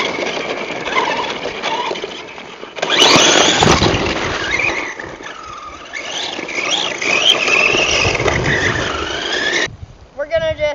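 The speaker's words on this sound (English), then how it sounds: "We're gonna just speed run it down the driveway and maybe release the throttle a little lighter." An RC jeep car whines and skids across a driveway, its small electric motor buzzing and tires squealing in rising and falling bursts, close and loud, ending abruptly before a brief rhythmic clatter.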